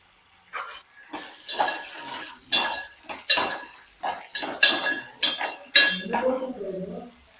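A spoon repeatedly scrapes and clinks against a pan as soaked peas roast in oil for a Marathi alu fatfat dish. The strokes come in an uneven rhythm over a faint sizzle.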